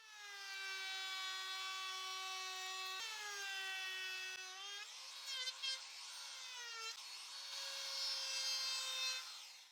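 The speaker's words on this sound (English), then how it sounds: "I'll use the router with a 25 millimeter Roman edge bit to create details on 3 top" A wood router fitted with a 25 mm Roman edge bit shapes the top edges of a wooden piece, a steady loud high-pitched whine that dips in pitch under load several times across the cut, with no talk.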